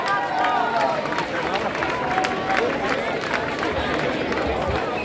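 Dense, steady audience applause and clapping rings out at an Italian live band show, mixed with crowd chatter throughout.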